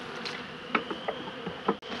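Honeybees buzz steadily around an opened hive during a post-winter inspection, a close, low drone with several louder passes from individual bees flying near.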